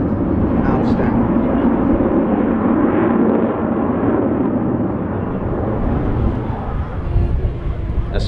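An Avro Vulcan jet bomber passes at the Scottish Airshow 2015, a loud sustained low roar of jet engines that holds steady and swells slightly near the end, with no words spoken over it.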